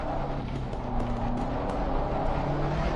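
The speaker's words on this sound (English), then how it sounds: "Listen to that Ferrari engine." Older Ferrari race car engine heard onboard during a hot lap at Spa, a steady loud droning roar with sustained tonal hum and no breaks, continuous throughout.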